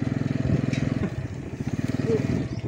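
A motorcycle engine putters steadily nearby with a rapid, pulsing rhythm, its tone rising slightly toward the end.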